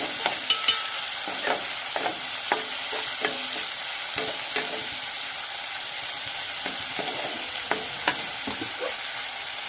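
Finely chopped tomato and onion frying in a pan, with a continuous bright sizzle and frequent light stirring clicks close by, and no voices.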